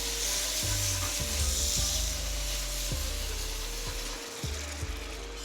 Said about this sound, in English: I'm gonna slowly whisk that in like that